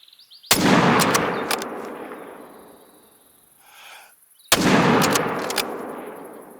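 Two loud rifle gunshots ring out in The Hunter Call of the Wild, each a sharp crack followed by a long rolling echo, spaced about four seconds apart.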